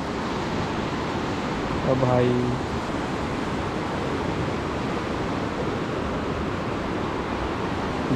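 Rushing floodwater near Garjiya Devi temple roars as a loud, steady broadband wash that fills the whole clip, with someone speaking briefly over it.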